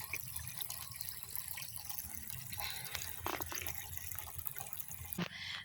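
Creek water pumped by a submersible pump into a container: a faint, steady trickle and splash of filling liquid running without a break, with no voices.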